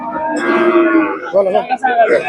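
A Khillar cow at a cattle market in Sangola moos loudly and close, a long drawn-out low call followed by a shorter wavering moo, with no talking.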